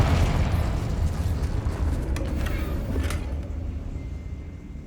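A Confringo spell explosion in Hogwarts Legacy makes a heavy, rumbling boom with crackling bursts that fades out over several seconds during spell combat.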